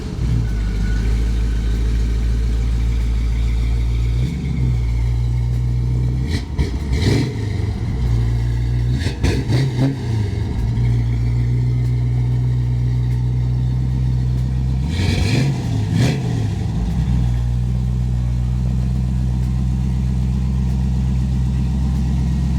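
A 1933 Ford Sedan hot rod engine runs loud and close with a deep steady idle rumble, broken by several sharp rev bursts before settling back down.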